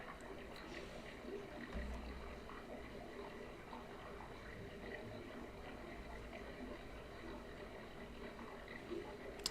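A small stream runs along a slippery hiking trail on the Chinaga Betta trek, a steady continuous rush and trickle of water with no talking.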